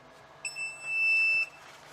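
A single electronic incubator temperature alarm sounds for about a second, a steady high-pitched beep over a quiet background hum.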